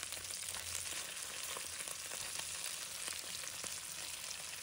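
Yellow croaker fish bones frying in a pan give a steady, even sizzle that runs through the whole stretch, close and moderately loud, with faint crackles and no talking.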